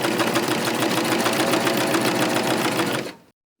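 A serger sewing machine runs in a fast, steady close-up whir while stitching over the starting stitches on a baby wash cloth, then stops abruptly near the end.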